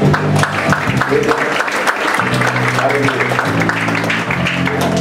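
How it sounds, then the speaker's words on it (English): A church congregation claps as an offering to the Lord, loud steady clapping throughout with sustained tones from instruments and voices underneath. "So give the Lord a good clap offering."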